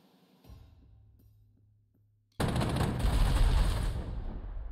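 Artillery fire in the strategy game Panzer Corps 2, a faint thud and low rumble followed by a sudden loud, sustained burst of blasts that keeps roaring to the end.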